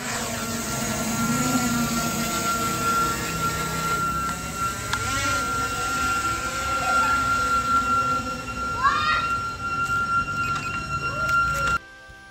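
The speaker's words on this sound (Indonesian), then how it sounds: "drone terbang maju" A drone flies forward high above the Masjid Jami Al-Ikhlas, its thin, steady motor whine holding constant over a broad wash of outdoor noise for about twelve seconds.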